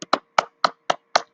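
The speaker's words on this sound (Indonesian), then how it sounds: "Tepuk tangan untuk Despita." A handful of sharp, separate hand claps ring out in a classroom for a student, about six evenly spaced slaps with no voices over them.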